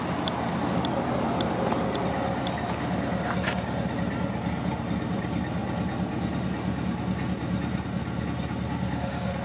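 A 1974 Chevrolet Corvette engine idles steadily with a low, even rumble and faint vibration, running smoothly at a constant pace without revving.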